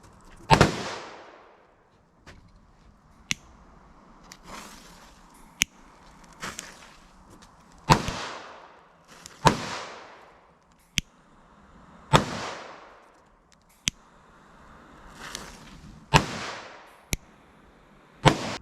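Petard firecrackers going off outdoors in an irregular series of about a dozen sharp bangs, some loud and close, others smaller pops, with short quiet gaps between.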